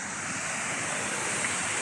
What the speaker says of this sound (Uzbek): Mana Sharshara.